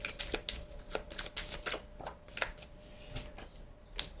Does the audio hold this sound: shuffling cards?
yes